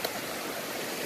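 Chilly stream water flowing steadily near a sandbar on a woodland hike, a continuous broadband rush heard up close with no talk over it.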